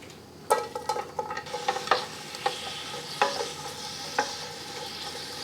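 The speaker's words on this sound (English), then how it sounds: "I'm going to saute this for about 2 to 3 minutes until the onions are translucent" Onions sautéing in about a quarter cup of olive oil, a soft steady sizzle broken by scattered clicks and scrapes of stirring, with no talk.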